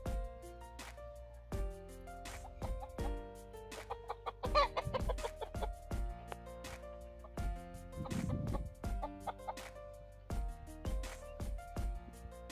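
Native chickens and gamecocks on a shaded farm clucking repeatedly, with close, irregular calls and short bursts from several birds throughout, and no talk.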